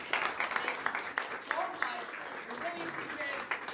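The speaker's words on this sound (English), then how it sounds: "For round of applause for yourself." An improv theater audience applauding themselves, a steady moderate patter of many hands, with voices speaking over the clapping.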